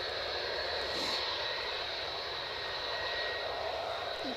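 A Loganair airplane taking off at Edinburgh Airport, its engines giving a steady whining roar heard from a distance, with no voices.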